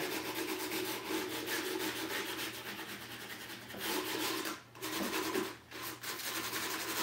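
Light, close rubbing over the trim of a wooden Art Deco magazine rack makes a continuous rasping, sanding-like scrub, with two brief pauses between passes.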